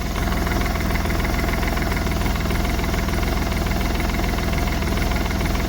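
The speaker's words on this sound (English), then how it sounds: "Yeah, turbo is spinning. Turbo is spinning. It's got oil pressure by now." A Smart Fortwo diesel engine idles with its turbo spinning, a steady close, low rumbling chug with a faint high turbo whine laid over it and no pauses throughout.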